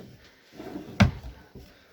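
A drawer on a lacquered cabinet is slid shut, giving one sharp close knock after a brief sliding rumble, followed by a softer knock, near and fairly loud with no talking.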